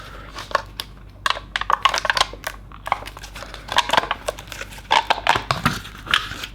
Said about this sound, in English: Let's take off the cover and see what we get